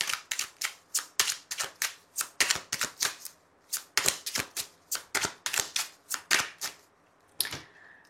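A 32-card deck being shuffled by hand in quick, regular riffles, each a crisp flutter of cards, close and distinct, with a short break near the end.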